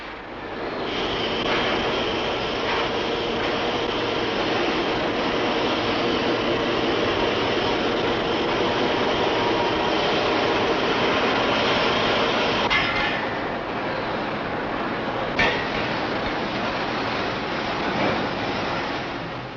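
Iron pipe spinning in a centrifugal casting machine at a 1960s foundry: a steady, loud broadband roar with a constant rushing drone throughout, plus a couple of brief metallic clanks near the end.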